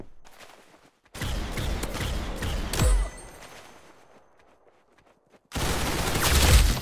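Gunfire in the Roblox game Arsenal: loud bursts of rapid shots with a heavy boom near the middle, a quieter stretch, then another dense volley at the end.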